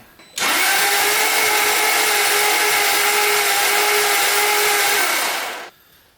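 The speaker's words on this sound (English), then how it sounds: "Put the tester in right away, crank it over, and let's see if that makes a difference." A very broken Jaguar S-type V8 cranks over on the starter during a compression test, a loud, steady, whirring drone that runs unbroken for about five seconds, then cuts off sharply.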